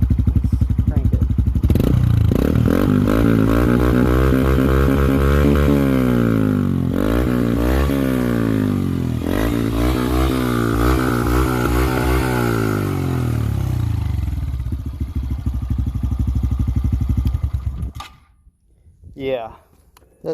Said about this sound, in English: I'm loving that exhaust